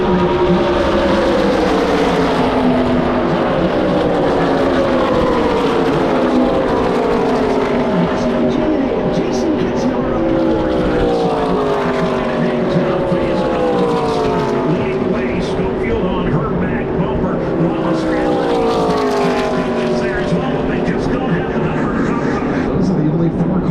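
ARCA stock cars race around the Daytona oval, their engines roaring in sweeping waves as the pack passes and recedes, steady and loud beneath ongoing commentary.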